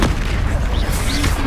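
A disarming spell cast in Hogwarts Legacy, a loud, full burst of magical blast with a deep boom and bright swishing tail, dense and close throughout the short moment.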